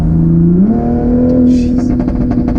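A stage 2 tuned 2020 Toyota Supra accelerates hard, its loud engine note climbing and holding strong up close, with a brief shout and other sounds from inside the car breaking in partway through.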